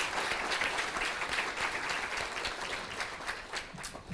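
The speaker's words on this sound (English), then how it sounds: "Please give them a round of applause." An audience at a state service awards ceremony claps for Delaware award recipients, a dense, steady wash of many hands applauding throughout, heard from within the hall.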